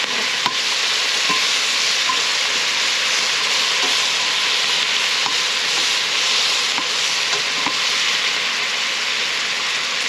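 Tasso browns in a pan with a steady, loud sizzle throughout, broken by occasional light clicks of stirring, heard close and without any talk.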